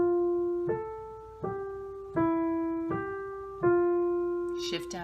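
Right-hand melody of the hymn How Gentle God's Commands on an electronic keyboard, six sustained single notes struck one after another at a steady slow pace, clear and close, with a brief noisy rustle at the end.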